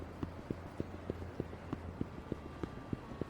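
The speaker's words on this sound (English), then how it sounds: "the footsteps thing is really uncanny" Footsteps in Yakuza 5 tap out a steady, evenly spaced walking rhythm, about one step every third of a second, crisp and close over a low background hum.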